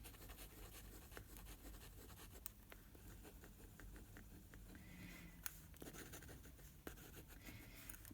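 A rollerball-style fountain pen loaded with black ink scratches steadily across paper in fast writing, a continuous close, dry rasp with small ticks and strokes, with no voices.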